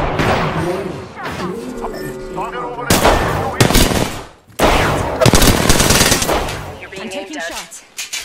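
Gunfire in the online shooter game Apex Legends: loud, dense bursts of automatic weapon fire and sharp shots in rapid succession, with a brief lull midway, mixed with game sounds and a speaking voice.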